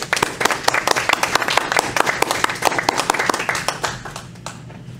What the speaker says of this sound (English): I think we should just give them all a round of applause